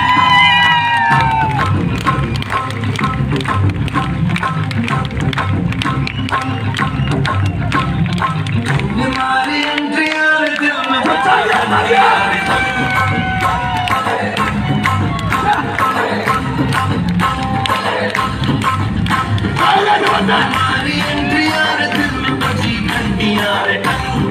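A large audience at a program meeting in Hazaribagh cheers, shouts and whoops over rapid clapping, a loud, continuous crowd roar lasting many seconds with individual yells rising out of the din.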